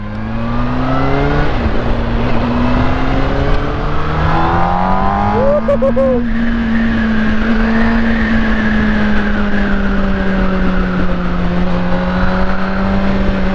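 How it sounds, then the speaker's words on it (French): Motorcycle engine pulling hard from mid-range revs, its tone climbing steadily with a brief shift partway through, loud and close over constant wind rush. "Ce moteur, il a du coffre, hein. Il a de la reprise dès les mi-régime."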